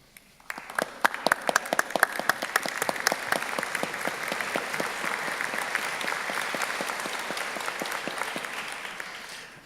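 Sustained audience applause at a university graduation ceremony, a dense patter of many hands rising quickly and holding steady at moderate loudness for nearly ten seconds, with no talk over it.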